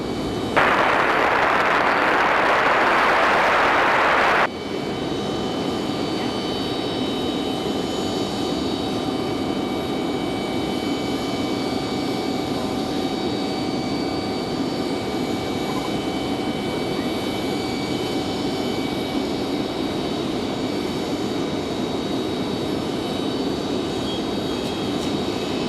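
An airliner takes off from runway 5 right at Raleigh-Durham, a loud, continuous jet engine roar with a dense hiss at first that settles into a sustained whining rumble as it climbs away.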